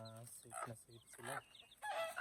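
Native chicken chicks peep and cheep in quick, high, bright bursts as they are placed in a newly built coop, close by, with a few breaks between the calls.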